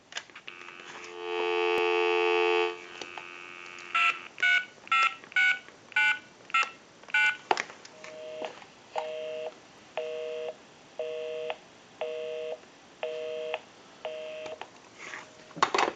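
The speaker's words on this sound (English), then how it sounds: "we'll call my number, and it'll be busy" An AT&T 530 Trimline telephone gives a steady dial tone, then a quick run of touch-tone dialing beeps, followed by a repeating busy signal pulsing at an even rhythm, close and clear.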